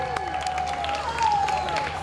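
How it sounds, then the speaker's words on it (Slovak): An audience at the Žiarsky Zlatý klinec 2025 event claps in steady, moderate applause beneath a speaking voice and a sustained tone. "Za vášho burlivého aplauzu."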